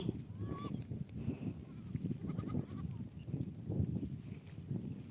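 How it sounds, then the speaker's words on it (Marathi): Goats bleat in an open field as a herd moves along behind a shepherd, several calls rising over a steady rustling and shuffling background, moderately close with no talk. "बकरी कुठे आहेत या बघा आहेत ना माझ्या पाठीमागून आल्यात"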